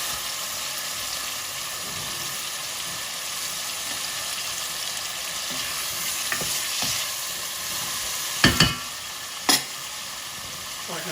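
Railway lamb curry, British Indian restaurant style, sizzles steadily in a hot pan with soft stirring. A couple of sharper spoon-on-pan scrapes come near the end, all fairly close and moderately loud.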